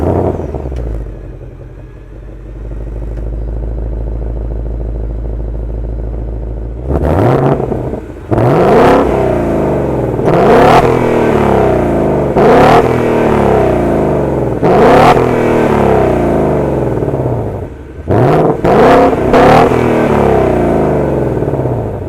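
A 2018 Ford Mustang GT Premium with a large-displacement naturally aspirated engine idles loudly, then revs hard in repeated rising bursts on a race track, close and dominant with no talk.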